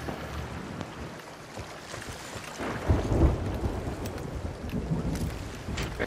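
A video game thunderstorm near the Fort of the Damned brings a steady wash of wind and rain, with a low rumble of thunder swelling midway. It is moderately quiet, with no talk.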